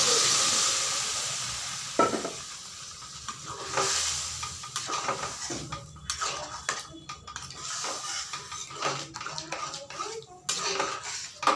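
Tadka spices hit hot oil and sizzle loudly over dal, then a spoon stirs and scrapes against the pot in uneven bursts, close up with no voices.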